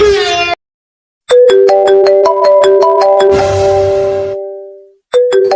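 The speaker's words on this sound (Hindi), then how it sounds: "किसका फोन है?" A phone ringtone plays a bright melodic tune, pauses, then repeats a sequence of chiming tones, loud and close, with no talking.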